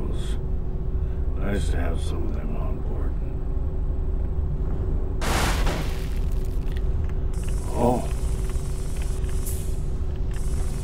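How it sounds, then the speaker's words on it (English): Missile blasts in a survival shooter game: a loud broadband explosion bursts around the middle and a smaller thump follows, over steady engine-like rumble with some talking. "Missiles."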